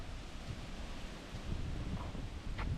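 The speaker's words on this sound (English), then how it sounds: "Super windy day." Gusty wind buffets the microphone with low rumbling surges, rising and falling in strength throughout.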